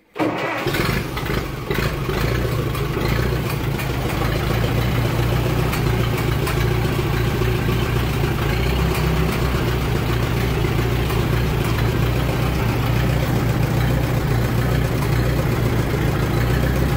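An old tractor engine that has sat unused for a while, started with a little throttle and choke, cranks and catches at once, then settles into a loud, steady, rumbling idle that runs close by without voices.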